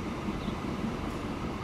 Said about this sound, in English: I love the sound of those wagons going by